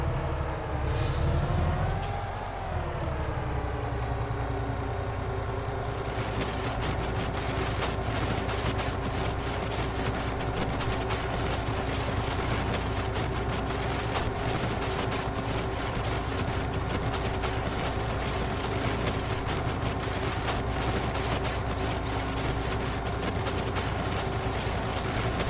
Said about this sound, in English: This truck acts like it's struggling with that load on there.